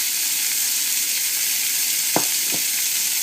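Bacon bits frying in a pan alongside filet mignon give a steady, loud broadband sizzle throughout, with two brief sharp clinks or stirs near the end and no talking.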